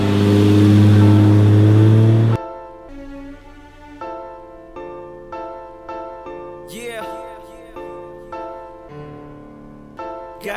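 Car fitted with a Cummins Barra engine revving hard, a loud steady roar at first, then repeated rising and falling pulls with strong tonal harmonics, close and clear without talk.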